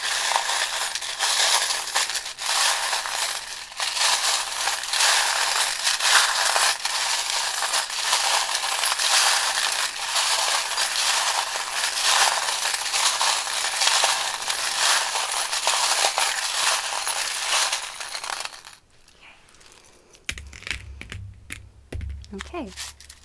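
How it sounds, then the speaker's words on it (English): Small metal charms shaken and dropped in a busy, continuous jangling clatter, loud and close, running for most of the stretch before cutting off abruptly into quieter low rumbling and handling sounds. "The charms can be a bit loud because they are mainly metal."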